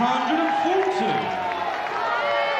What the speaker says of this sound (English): Applause for 140, leaves him on 161.